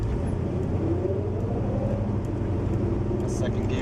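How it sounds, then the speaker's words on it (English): A 1974 Chevy Nova driven on the road, its engine a steady low rumble heard from inside the car, continuous and even with no clear gear changes yet. "when the light turns green, we'll go through the gears"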